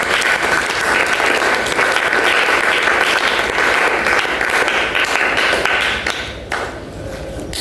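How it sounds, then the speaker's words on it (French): A church congregation applauds loudly and steadily, dense clapping mixed with cheers, then it drops in volume near the end. "Est-ce qu'on peut acclamer très fort pour nous?"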